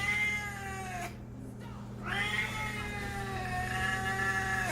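Siamese cat meowing in long, drawn-out, insistent calls, two loud yowls split by a brief pause, close and alone with steady low background hum.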